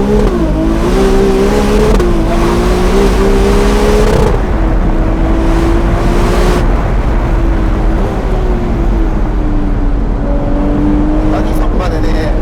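Ferrari 296 GTS in qualify mode accelerating, a loud close engine note with a rising and shifting drone that holds steady through the run, with faint talk now and then.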